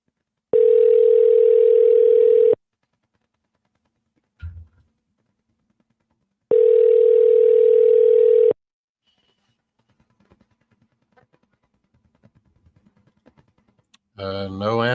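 Outgoing telephone ringback tone on a call to a seller about a Baldwin, Missouri property: two steady two-second rings separated by silence, followed by faint clicks and line noise.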